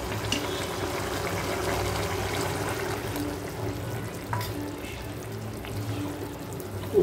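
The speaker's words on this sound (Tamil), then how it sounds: "இப்போ வந்து நம்ம புளி தண்ணி ஊற்றிக்கலாம்" Quiet tamarind water pouring into a pan of cooked vegetables, a soft continuous trickle with faint sizzling and small clinks.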